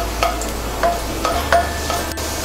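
Chopped garlic softens in hot oil in a pan, with a quiet sizzle under repeated rhythmic scraping stir strokes, close and without speech.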